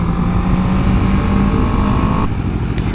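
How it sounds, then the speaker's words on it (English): A BMW S1000RR motorcycle on the road, its engine a steady loud drone heard close up, with a slight shift in tone near the end. "And this is the BMW S1000RR."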